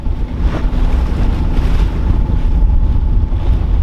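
Wind and ocean wash roar steadily around a Dana 24 sailboat motor sailing at sea with the genoa and main up, a broad constant rush with gusty buffeting and a faint low engine hum underneath.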